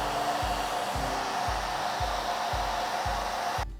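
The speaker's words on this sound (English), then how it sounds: "I'm gonna go to the hairdryer one more time." A hair dryer blows steadily onto a watercolor painting of a poinsettia, a constant whooshing hiss with a rhythmic low pulsing, cutting off abruptly at the end.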